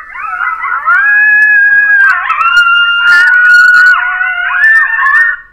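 Recorded coyote howls play from an electronic fox caller, loud and continuous wavering yips and drawn-out howls blending into a chorus, with no talking.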